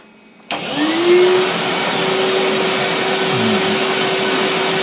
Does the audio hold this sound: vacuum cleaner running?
yes